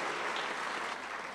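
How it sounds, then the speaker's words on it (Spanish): Audience applause at a Día del Pasillo ceremony honoring figures of Ecuadorian pasillo music, a steady dense wash of clapping that holds evenly throughout without voices on top. "Un aplauso, por favor, para esas personas tan importantes para el pasillo ecuatoriano."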